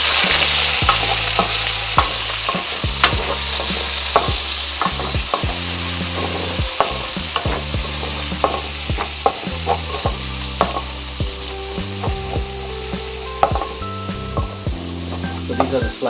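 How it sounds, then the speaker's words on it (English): Sliced onions sizzle steadily in a hot pan while a spoon stirs them, with frequent scraping clicks and knocks against the metal throughout, close and fairly loud. "So now we'll add our onions. And we'll give them a mix."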